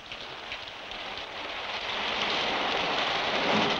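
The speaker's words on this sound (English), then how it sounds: "The rain is relentless." Relentless rain pours down on a refugee camp of palm-leaf shelters strung on bamboo poles: a dense, continuous hiss of falling water that swells louder toward the end, with no voices.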